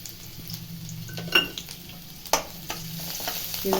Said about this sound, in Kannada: ಇದನ್ನೊಂಚೂರು ಫ್ರೈ ಮಾಡಬೇಕು ಹಾಕ್ತಾ ಇದ್ದೀನಿ